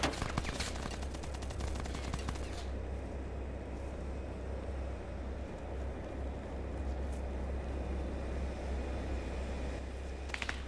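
Gunfire in the military shooter Arma 3, with several sharp shots packed into the opening few seconds, then a steady low rumble and distant ambience with an occasional faint pop.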